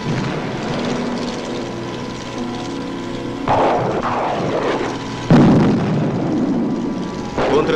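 Military aircraft and helicopters roar overhead during a 1972 Warsaw Pact exercise, a continuous loud engine drone with sudden bursts of blast-like noise, under a voice speaking Russian.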